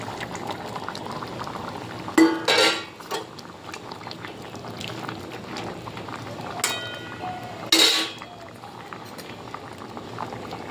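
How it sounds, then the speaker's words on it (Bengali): Fried prawns dropped into a pot of boiling mixed-vegetable curry with potatoes: a steady bubbling simmer, broken by two louder splashing, clattering bursts as pieces go in, with no talking. "এবার ভেজে রাখা মাছটা দিয়ে দিলাম।"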